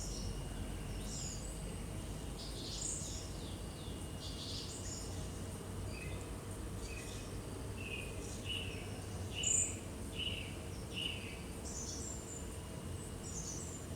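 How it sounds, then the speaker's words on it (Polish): Small birds chirp and call outdoors among trees, short scattered phrases sounding fairly distant over a steady hum of insects. "Posłuchaj ptaków."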